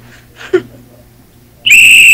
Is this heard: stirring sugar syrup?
no